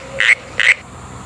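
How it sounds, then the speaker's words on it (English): Two short, bright frog croaks in quick succession, clear and close, from a rainforest-themed children's animal sound book. "Frog."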